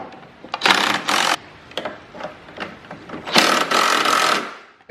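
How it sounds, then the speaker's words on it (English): A cordless drill backs out 10mm socket screws from the covers on a Gladiator, in several separate whirring bursts, two longer runs with short ticks and clicks between them, close by with no talking. "just a drill to go ahead and pull these screws out"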